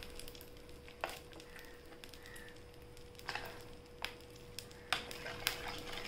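Tomato omelette batter sizzles faintly on an oiled griddle, a quiet, steady frying hiss broken by a few sharp clicks and scrapes of a utensil.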